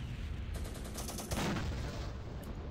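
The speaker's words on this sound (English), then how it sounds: "Let's give a couple of shots." Gunfire in a warfare video game mod plays out as a dense, steady wash of shots, with a few sharper cracks picking out distinct bursts over the constant din.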